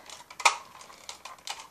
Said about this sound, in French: vous faites coulisser jusqu'à vous entendiez le clic, comme ça